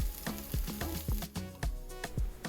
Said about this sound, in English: get your oil hot before adding in your chopped onions and 2 bay leaves to cook on medium-high heat